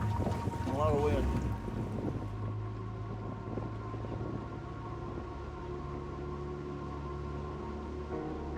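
Strong wind blows outdoors in the Newfoundland woods with spitting snow mixed with rain, a steady rushing roar buffeting the microphone, and a person speaks briefly near the start.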